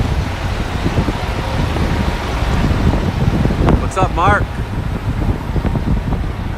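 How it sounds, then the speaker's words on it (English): Gusting wind buffeting the microphone along with low rumbling truck and street traffic during a spring walk through Chicago's Uptown neighborhood, a steady heavy roar with someone talking briefly over it. "we have a wind and some truck noise and different things like that"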